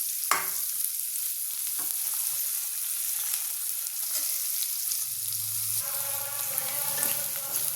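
Onions and fennel seeds frying in hot oil in a kadai, with a steady, close sizzle and occasional scraping stirs running the whole way, no voices.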